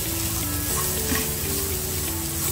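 Fennel seeds and carom seeds sautéing in a hot pan, a steady close sizzle and crackle with light stirring running throughout, no voices.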